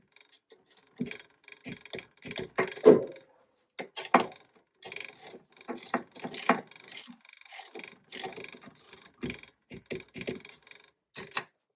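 A torque wrench tightening 1/4-20 bolts on a Dillon RL1100 reloading press, sharp irregular clicks and ratcheting snaps in quick bursts, close and fairly loud, with brief quiet gaps between.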